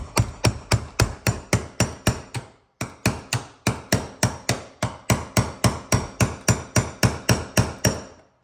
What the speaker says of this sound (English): So we got a chisel and a hammer. You basically take this and hit it on a notch